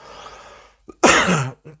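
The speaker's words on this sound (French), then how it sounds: "pardon, je tousse" A single harsh cough sounds close by, followed by a short rasping clearing of the throat, with faint breathy sounds before it.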